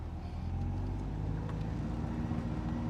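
A 1975 MGB Anniversary Edition driving along, its engine producing a steady low rumble with constant road and wind noise throughout, close and continuous with no talk.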